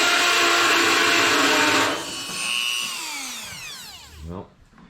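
Power tool cutting a slot into a fender weld nut on a 1960s VW Beetle, a loud high whine that holds steady, then sweeps down and dies as the tool spins to a stop.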